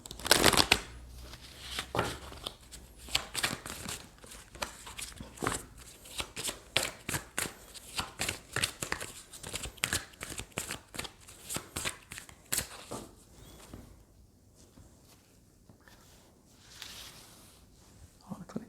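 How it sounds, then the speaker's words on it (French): Playing cards are shuffled close up during a tarot-style reading, a long series of crisp riffles and flicks in irregular bursts, fading to softer handling near the end, with a quiet voice at times. "Et en attendant, je vais mélanger les cartes."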